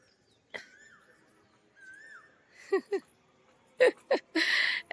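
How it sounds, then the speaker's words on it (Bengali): An Asian koel calls in spring, two clear whistled notes rising and falling at moderate distance, followed by short bursts of nearby voices. "কি সুন্দর বসন্তর কোকিল ডাকছে চারিদিকে"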